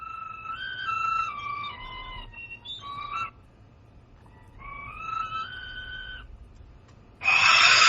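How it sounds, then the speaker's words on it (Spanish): A clay skull-shaped death whistle gives shrill whistled tones that slide downward in a few hollow, owl-like phrases separated by pauses, then a sudden harsh burst of noise cuts in as the whistle's interior is struck. "Sonido percutiendo el interior de uno de estos silbatos intactos de la muerte"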